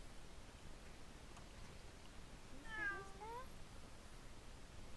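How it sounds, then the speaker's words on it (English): A cat in the video game Atelier Yumia gives a single brief meow partway through, moderately faint over a steady hiss of background noise. "let's pet the cat and ignore the traitor"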